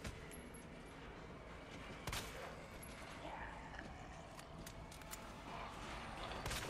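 Faint gunshots crack in Resident Evil 2, a couple of sharp bursts breaking a steady background of game ambience and mechanical noise, distant and low in level.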